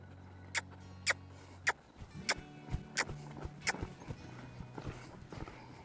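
Horse hooves striking the ground at a canter during a training session, a series of distinct, fairly close thuds in an uneven rhythm, with quieter scuffing between beats.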